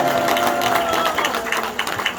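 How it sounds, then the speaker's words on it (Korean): Congregation applauds in church, a steady wash of many hands clapping at moderate loudness for a couple of seconds, with no talk over it. "우리 박창정 변호사님께 다시 한번 박수하겠습니다"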